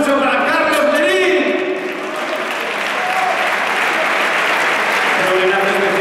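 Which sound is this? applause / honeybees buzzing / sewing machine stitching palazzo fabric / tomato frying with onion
applause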